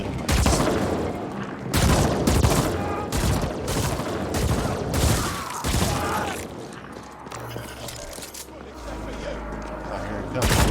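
Repeated loud gunfire from a weapon in the video game Ascent, a series of sharp blasts and bursts at irregular intervals, with someone talking over parts of it.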